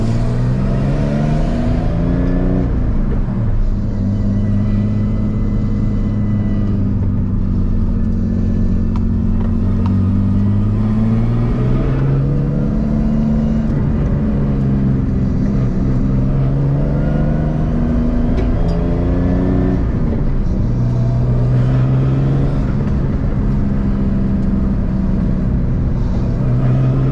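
A turbocharged BMW E46 M3 drives along with a steady, loud engine drone whose pitch rises and falls through gear changes and shifts in throttle, with no talk.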